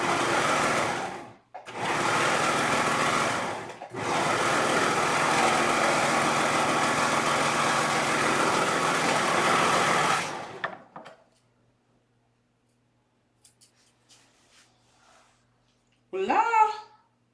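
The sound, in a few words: serger sewing machine serging a side seam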